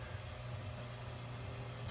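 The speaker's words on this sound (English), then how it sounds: "I just had the fan on because the onions," A kitchen exhaust fan running while onions cook, a steady low drone with a broad airy hiss, constant and unbroken throughout with no talking.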